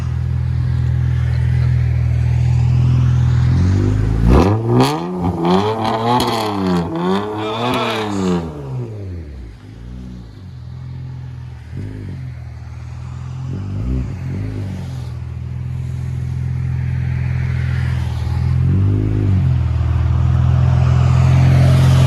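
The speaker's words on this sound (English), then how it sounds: "2000 Honda Accord Coupe V6. There it is." A 2000 Honda Accord Coupe V6 with straight-pipe exhaust revs hard on a cold day, its engine note sweeping up and down through several loud pulls before dropping back to a steady idle, followed by a couple of brief blips.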